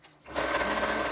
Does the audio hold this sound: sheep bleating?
no